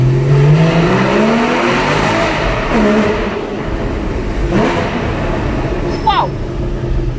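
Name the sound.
Porsche accelerating in a tunnel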